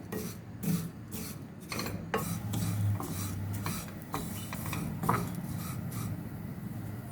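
Ginger and green chilli paste frying in a pan for Telugu-style curd rice, a steady close scraping and stirring with soft sizzle and clinks of a utensil against the pan, no talking.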